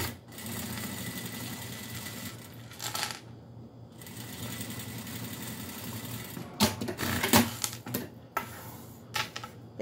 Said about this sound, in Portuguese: e costura pela beiradinha.